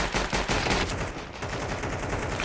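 P2000 pistol shots ring out during a competitive esports video game match, a dense, continuous barrage of overlapping gunfire that fills the whole stretch without a break.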